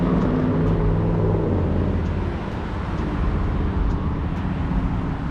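A Shelby truck drives past, its loud, low engine rumble steady and close for several seconds, with a faint dip in the middle before the roar swells again; no one speaks.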